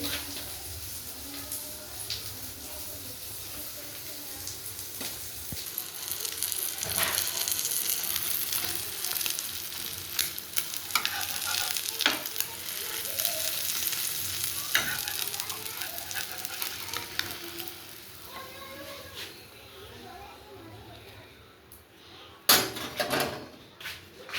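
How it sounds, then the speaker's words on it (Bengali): Four fried eggs cook in mustard oil in a pan, giving a steady frying hiss with stirring scrapes and occasional knocks, quiet at first, then rising, with sharper clatters near the end. "আরও তেল দিয়ে দেবো, সর্ষের তেলে রান্নাটা হচ্ছে"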